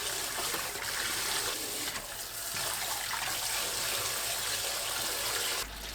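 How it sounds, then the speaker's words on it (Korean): Steady running water as blanched napa cabbage is rinsed in cold water, a continuous close splashing flow with no voices. "2분 후 찬물에 두세 번 헹궈주세요"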